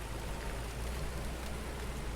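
Rain in the farming video game Farmer's Dynasty makes a steady, even hiss with soft patter throughout and no other sounds.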